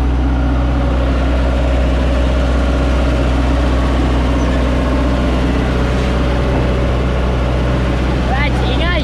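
A motorcycle engine idles close by in a steady, loud, low rumble that holds unchanged throughout, with a faint higher chirping sound near the end.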